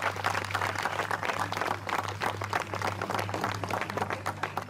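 Audience clapping steadily throughout at an outdoor horse-taming demonstration, a dense, fairly even patter of many hands with a low steady hum underneath.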